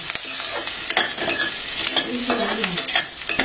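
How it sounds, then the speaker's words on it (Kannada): Sliced onions fry with a steady sizzle while a spatula stirs and scrapes them around the pan, busy and close, with no talking. "ಈಗ ಸ್ವಲ್ಪ ಈರುಳ್ಳಿನ ಹುರ್ಕೊಂಡು ಫ್ರೈ ಮಾಡ್ಕೊಂಡಿದ್ದೀನಿ"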